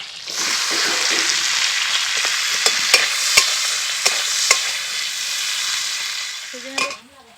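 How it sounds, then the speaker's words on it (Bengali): Capsicum pieces frying in hot oil give a loud, even sizzle throughout, with a few sharp clicks of stirring near the middle and a brief clatter at the end. "প্রথমে আমি ক্যাপসিকামগুলো ভেজে নেব।"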